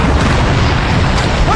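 Cannon fire in a staged drama about Sultan Iskandar Muda of Aceh: a dense, sustained roar of booming blasts fills the whole stretch, loud and close, with no clear gaps between shots.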